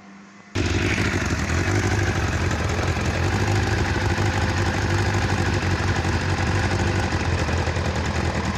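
A cold motorcycle engine idling steadily, a loud close continuous rumble with rapid mechanical clatter that starts abruptly after a short quiet moment and holds even throughout, no talking.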